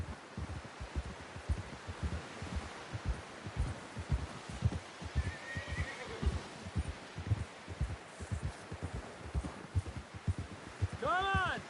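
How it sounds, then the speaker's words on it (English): Horse hooves in a video game thud in a steady, fast clip-clop rhythm throughout, with a brief whinny near the end over low rumbling game ambience. "Someone help John down off this horse"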